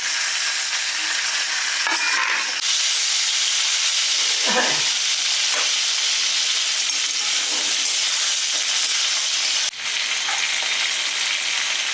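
Onions with whole green chillies and tomato fry in a pan in a loud, continuous sizzle, with occasional stirring scrapes and a small clink near the end.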